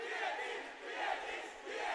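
A large esports arena crowd at a Valorant Challengers South Asia finale roars and cheers continuously, the swell of voices rising and falling in waves, with no talk over it.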